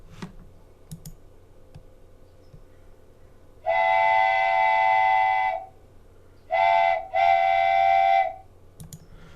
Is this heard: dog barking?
no